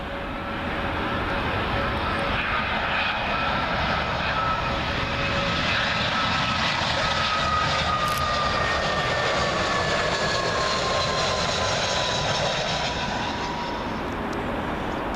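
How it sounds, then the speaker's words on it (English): A British Airways Airbus A319 jet passing low overhead on approach to land at Heathrow, a loud steady engine roar with whining tones sustained throughout. "Next up over the house is another British Airways A319."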